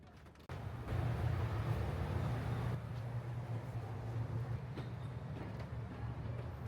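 A Paris metro train rumbles along with a steady low drone and rattling, starting abruptly after a brief quiet moment and holding at moderate loudness with occasional clanks.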